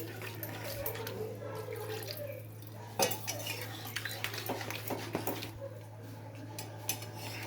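Fish curry with gravy gets stirred in a pan: scattered metallic scrapes and clinks of a utensil against the pan, with a wet bubbling undertone and a steady low hum behind it, moderately close.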